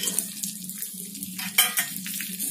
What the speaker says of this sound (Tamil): காஷ்யூ நட்ஸும் சாருளியும் நல்லா ஃப்ரை பண்ணிக்கோங்க.